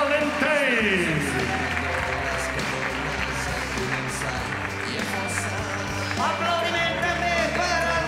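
Stadium crowd applauding during FC Barcelona's 2021/2022 team presentation as players are introduced, a sustained roar of clapping and cheering under a booming announcer's voice and music.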